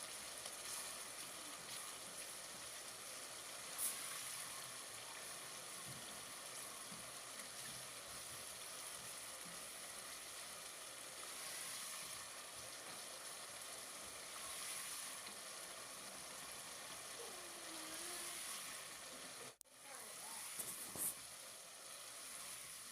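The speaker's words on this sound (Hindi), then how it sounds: "तकरीबन 5 से 6 मिनट तक हम अपना मसाला अच्छी तरह से भूनते जाएंगे।" Masala spices frying in a pan for an aloo baingan curry, a steady close sizzle and crackle that runs unbroken throughout, with faint stirring and no voices.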